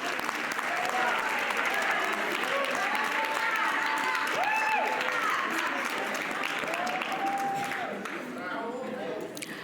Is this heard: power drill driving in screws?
no